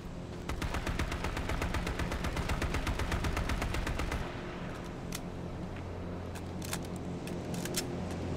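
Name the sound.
automatic gunfire spraying in the video game H1Z1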